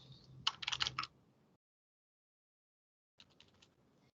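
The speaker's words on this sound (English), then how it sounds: "So we can just type this on our calculator." Calculator buttons pressed for a money calculation in a percent math lesson, a quick cluster of light clicking taps, then silence, then a softer second run of presses.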